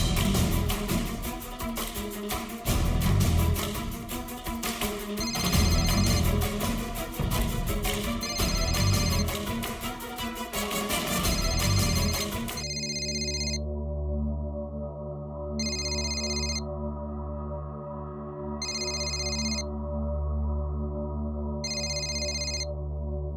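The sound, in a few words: telephone ringing while placing a call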